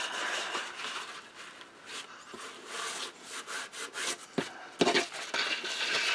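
Tissue rubbing across watercolour painting paper, a soft close scratchy scrubbing that continues in uneven strokes, growing louder near the end.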